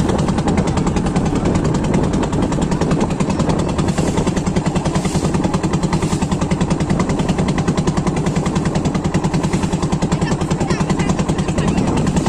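A boat's engine chugs loudly and steadily as the boat sets off through the Sundarbans, a fast, even mechanical pulsing that holds close and constant throughout with no voices.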